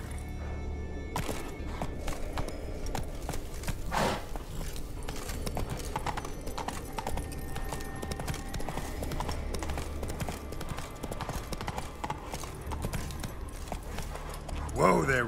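Roach, the horse in The Witcher 3, gallops in steady, rapid hoofbeats that carry on throughout, with a neigh near the start and a voice urging the horse on.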